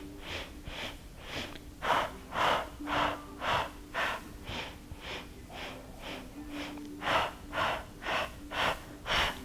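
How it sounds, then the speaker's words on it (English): Slow, deep, steady breaths during a Pilates mat exercise, about a dozen close, even inhales and exhales in a regular rhythm with no talking. "we'll begin breathing in, 2, 3, 4, 5, and out, 2, 3, 4, 5"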